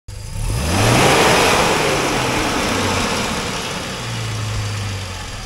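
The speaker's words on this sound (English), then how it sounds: "First, we have the XK straight six engine." A classic Jaguar S-Type's XK straight-six engine starts up and revs, rising to a loud roar and then settling into a steady, fairly close running drone.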